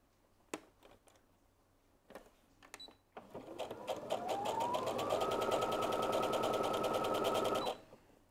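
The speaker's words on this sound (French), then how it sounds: "on va coudre comme avant, à partir du haut vers le bas" Sewing machine stitching elastic quilt fabric for a lattice block, starting with a few scattered clicks and handling knocks, then a steady rapid motor whir that ramps up and runs continuously before stopping abruptly.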